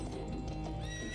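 A horse in a desert adventure video game whinnies loudly in one short, bright neigh, with hoof clip-clops mixed in and busy game sound behind it.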